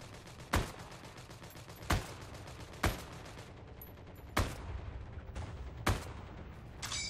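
M1 Garand rifle fire in the video game Heroes and Generals: six sharp, separate shots spaced about a second apart, loud and close, with no talking.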